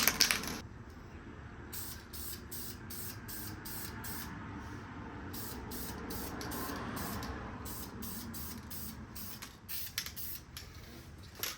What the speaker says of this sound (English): now I'm going to use the paint and throw a coat on